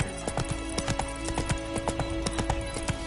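Roach, a horse in The Witcher 3, trots at a steady clip-clop, hoof strikes evenly spaced and close over a continuous game ambience with a brief whinny-like tone.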